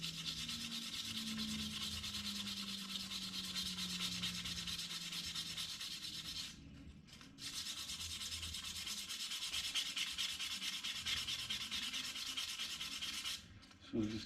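Continuous abrasive rubbing on a dented, scratched stainless steel trim piece from a Holden HT Monaro, a steady rasping scrape running almost nonstop, with two short pauses and no speech.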